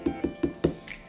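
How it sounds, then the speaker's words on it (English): Four evenly spaced hollow knocks, firm and close, like knuckles rapping on a watermelon. "So if it sounds like you're knocking on a door"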